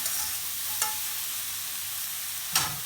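Small kachki fish cooking with salt in a pan, a low steady sizzle broken by two sharp clinks of a utensil stirring, quiet and close with no speech.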